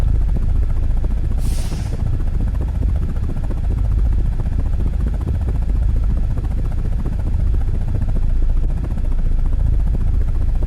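An attack helicopter flies in a video game, its rotor and engine making a steady, loud low drone throughout, with a brief high hiss near the start.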